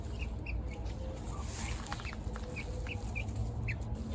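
Chickens near their coop give repeated short clucks and occasional calls at moderate distance, scattered across a quiet outdoor background hum with no talking.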